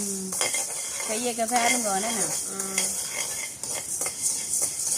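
Grains are dry-roasted in a pan while being stirred, producing scraping and clinking of a utensil against metal over a faint hiss, with a voice speaking briefly partway through.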